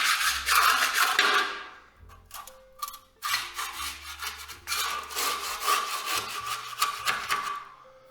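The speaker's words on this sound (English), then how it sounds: "See the way it sort of scrapes off quite easily?" A hand tool scrapes high points off a wall before plastering, making loud, close, rough rasping strokes in long sustained passes separated by short pauses.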